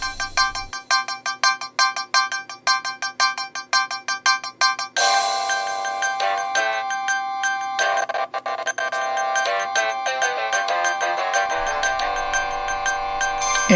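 MIDI music plays through the sound card of a Gateway Profile 2 PC, synthesized tones moving from a plucky, pulsing opening into fuller sustained chords and melody, played loud and without talk.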